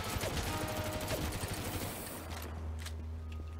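Rapid gunfire in the Crossfire X campaign, a dense volley of shots that thins out after a couple of seconds into a lower rumble with a few scattered reports.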